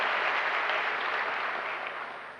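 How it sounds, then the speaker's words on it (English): Audience applause at an Africa Day lecture: a dense, steady wash of many hands clapping that starts loud and slowly fades over a couple of seconds, with no voices over it. "Let's give them a round of applause,"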